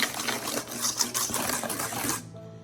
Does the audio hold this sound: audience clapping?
no